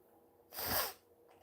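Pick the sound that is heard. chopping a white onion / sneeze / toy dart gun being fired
sneeze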